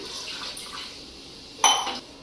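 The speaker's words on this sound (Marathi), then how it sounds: "यामध्ये घालायचं पाणी." Water poured into a cooking pot of chicken leg pieces and potatoes, a brief splashing gush after a faint background hiss, close and fairly loud.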